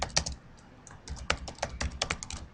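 Typing on a computer keyboard: a close, irregular run of sharp key clicks and clacks, including a shift-enter press, with brief pauses between bursts and no talking.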